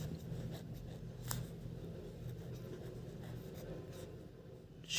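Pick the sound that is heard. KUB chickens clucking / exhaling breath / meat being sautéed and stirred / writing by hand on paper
writing by hand on paper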